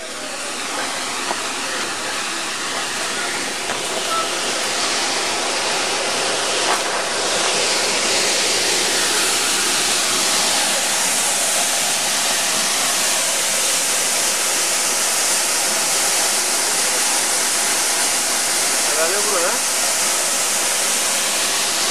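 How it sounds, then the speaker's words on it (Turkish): Sıkayalar waterfall roars as a dense, unbroken rush of water, loud and close, filling the whole scene steadily throughout. "gerçekten de şelaleymiş ya"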